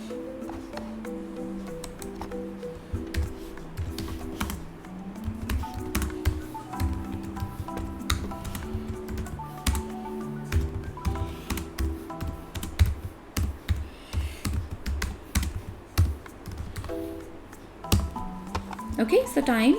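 Steady, rapid typing on a computer keyboard with dense clicking keystrokes throughout, over faint background music and tones.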